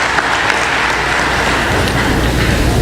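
A commencement ceremony crowd breaks into steady applause, a dense, loud wash of clapping from many hands that holds through the whole stretch with no one speaking over it.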